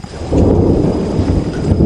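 Loud, deep rolling rumble of thunder over a steady hiss of rain, sustained and close throughout with no voices.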